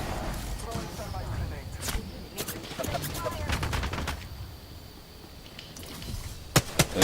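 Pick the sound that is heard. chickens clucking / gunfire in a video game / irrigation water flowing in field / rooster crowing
gunfire in a video game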